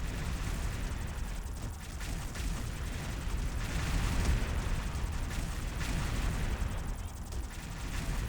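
Dense bursts of explosions and rapid gunfire from the shooter game XSHOT, with blasts and shots tumbling over each other in a loud, continuous barrage and no pause.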